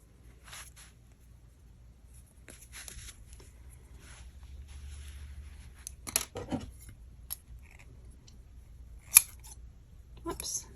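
Scissors trim the yarn ends of a crochet tassel, a few close crisp snips scattered among soft handling rustles in a quiet room.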